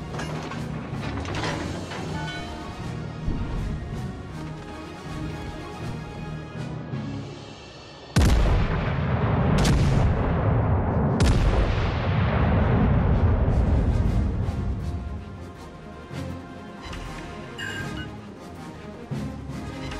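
Warship guns fire in the naval battle game World of Warships: Legends, with loud booming blasts around the eighth and eleventh seconds standing out over a steady mechanical rumble of the ship and sporadic lesser shots.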